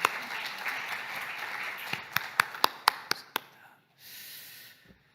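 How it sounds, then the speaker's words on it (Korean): A church congregation applauds during a Sunday service, a steady wash of clapping followed by several sharp, louder claps standing out before it dies away into a brief hiss. "주님께 감사, 영광의 박수 올려드립니다."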